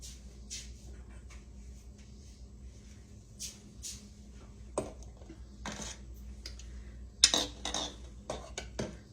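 Boiled eggs lifted out of the pot and set into a small bowl, giving a series of light clinks and knocks against dishware, some sharper than others, over a quiet kitchen background with no talking.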